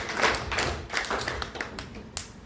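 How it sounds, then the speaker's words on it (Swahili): Church congregation applauding for Jesus during a Swahili service, a close, uneven patter of claps and taps that fades slightly toward the end. "Makofi mazuri mengine kwa Bwana Yesu."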